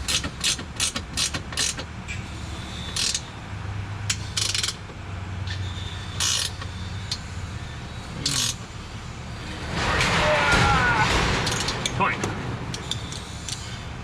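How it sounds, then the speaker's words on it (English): Ratchet clicks on a bolt in the suspension of a 2022 Subaru Crosstrek, a series of sharp metallic ticks in uneven bursts, mixed with clanks and handling noise, close and fairly loud, with people talking at times. "So you wanna use your bolt head side ratchet as more of a stabilizer."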